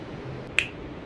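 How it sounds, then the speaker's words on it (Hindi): A single sharp finger snap, crisp and fairly close, standing alone against a quiet room background. "उसी तरह से चुटकी बजाकर इस कमरे को भी साफ़ कर लेती हूँ"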